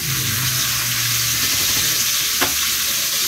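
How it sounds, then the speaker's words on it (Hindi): Onion, ginger, garlic, green chilies, cardamom and yogurt fry together in oil in a pan, a close, steady sizzle with light stirring scrapes and one brief clink near the end, and no voices. "और प्याज, अब इनको हम अच्छा सा भून लेंगे।"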